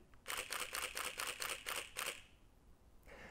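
A camera shutter fires in a fast burst of about eight crisp, evenly spaced clicks, then stops and is followed by one softer, fainter sound, all close with no talking.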